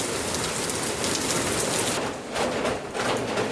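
Steady rain pours down, a dense hiss of drops on surfaces that briefly thins and then swells again, with no one speaking.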